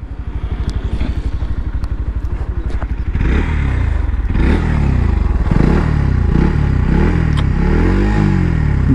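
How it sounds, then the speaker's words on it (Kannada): Bajaj Pulsar NS160 BS6 motorcycle with its exhaust revving up close, a steady rapid idle thump giving way to repeated loud throttle blips that rise and fall in pitch, with no talking over it. "ಈ ಗಾಡಿ ಎಕ್ಸಾಸ್ಟ್ ಆಗಿದೆ ನೋಡೋಣ ಇರಿ"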